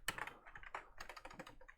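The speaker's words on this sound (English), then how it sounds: "Let me just type this again." Rapid typing on a computer keyboard while entering a command, with a quick, steady run of close, soft key clicks and no pauses.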